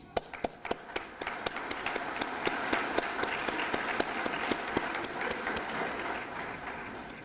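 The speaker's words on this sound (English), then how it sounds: "we applaud you." Audience applause at a 2012 GED graduation ceremony: a steady patter of many hands clapping with sharp individual claps standing out, sustained and fairly even for several seconds, moderately distant in the hall.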